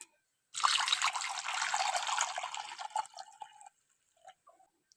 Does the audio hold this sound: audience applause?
no